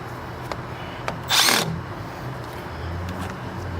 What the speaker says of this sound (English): let's drill a couple of holes and we'll see what we got